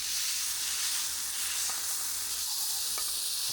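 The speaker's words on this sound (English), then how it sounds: "Like a pretty good sear." A steak sears in a hot pan with a steady, close sizzle and hiss throughout, broken by a few faint clicks.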